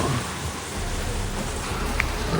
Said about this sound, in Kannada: ಹೆವಿ ಮಳೆ ಆಗ್ಬಿಟ್ಟಿದೆ